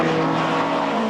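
BMW M3 touring cars with 2.3-litre, 320-horsepower engines racing in the 1989 British Touring Car Championship, a loud, sustained engine roar throughout with a steady droning tone and no talk.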